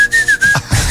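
A single sustained whistled tone, loud and close, holding steady for about half a second before breaking off into breathy studio noise on a morning radio show.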